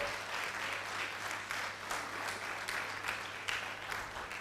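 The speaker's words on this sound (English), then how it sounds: "Please applaud yourself." Steady crowd applause fills a hall at a nursing induction ceremony for graduates of the 2024 class, continuous dense clapping from many hands without pause, heard at a distance and fairly faint.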